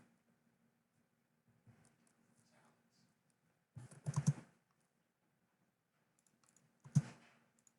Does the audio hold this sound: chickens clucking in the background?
no